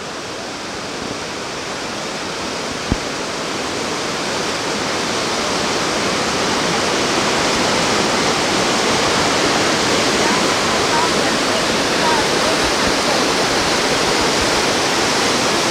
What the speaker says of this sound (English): It's only a few feet high, but that qualifies as a waterfall.